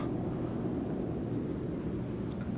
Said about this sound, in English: I'm once again hearing something pass overhead that has a prop.